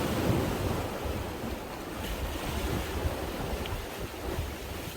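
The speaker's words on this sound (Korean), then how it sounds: "파도는 잔잔한 편입니다" Calm sea waves wash gently at Simgok harbour, a steady, soft broadband wash with light wind noise over the microphone, continuous and fairly close with no voices.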